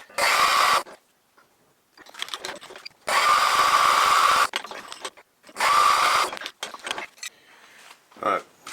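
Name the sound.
drilling a hole in metal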